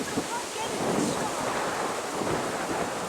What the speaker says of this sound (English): God, it's windy.